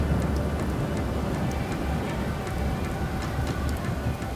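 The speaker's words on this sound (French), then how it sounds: "L'orage arrive et le vent se lève." A tropical storm on an island in Thailand brings steady rain and wind, a dense continuous hiss and low rumble with no voices, holding level for a few seconds.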